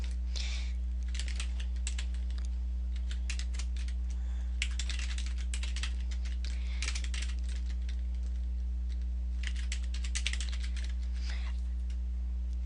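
Someone types a password on a computer keyboard in rapid, irregular bursts of key clicks over a steady low electrical hum.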